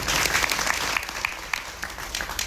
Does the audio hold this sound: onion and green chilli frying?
no